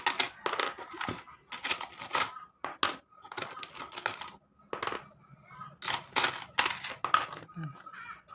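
Coins dropped one after another into a universal coin slot, a series of sharp metallic clinks and rattles in irregular bursts, close and fairly loud, with someone talking between drops.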